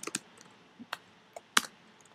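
Scattered keystrokes on a computer keyboard while code is typed, a few soft clicks with pauses between them, quiet and close with no voice.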